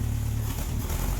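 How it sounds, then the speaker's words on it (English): The homemade Grållinator engine, running rough, gives a brief loud rumbling rev up close. "And some revving."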